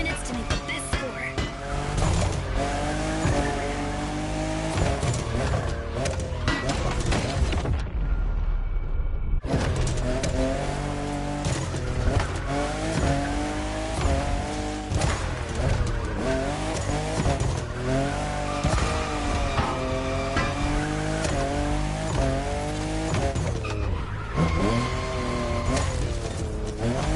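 A fifth-generation Toyota Supra drifts in the racing game Motorfest, its engine revving and rising and falling while tires squeal through long slides, loud and continuous with a brief dropout midway.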